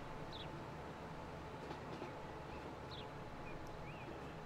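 A train running along a line in the Transport Fever 2 simulation game, a steady moderate rumble with faint high squeals and tones over it, continuous throughout.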